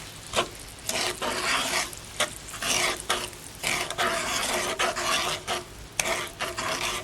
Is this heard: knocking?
no